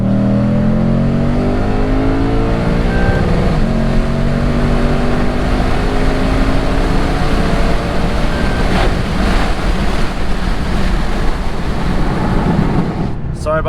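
A sports car in Sports Plus mode accelerates hard after a manual downshift, its engine note climbing steadily through the revs, with loud wind buffeting the microphone throughout and a brief clunk at the very end.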